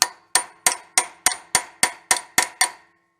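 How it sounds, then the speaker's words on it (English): A part being hammered into the engine of an early Honda 4x4 ATV: ten sharp metallic blows at a steady, even rhythm, close and loud, with no talk. "Let's go hammer her in."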